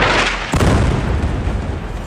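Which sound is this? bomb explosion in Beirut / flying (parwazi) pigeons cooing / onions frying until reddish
bomb explosion in Beirut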